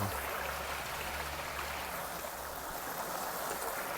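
Water pours steadily back into a cichlid pond as it refills, a continuous broadband rush and splash heard up close without any talk.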